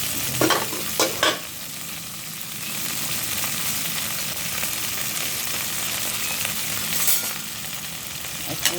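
Food fries in a pan with a continuous close sizzle, punctuated by a few clattering knocks early on and another near the end as pieces are flipped; no voices.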